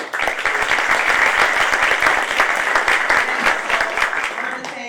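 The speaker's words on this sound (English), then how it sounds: "So I think we need to give him a round of applause for his hard work in the last year." Audience applause at an annual park and golf course meeting: a dense, sustained burst of many hands clapping, fairly loud and steady for about five seconds before thinning out at the end.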